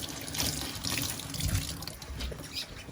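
Tap water runs steadily and close to wet a magic eraser for cleaning sneaker midsoles, a continuous splashing stream with no voices.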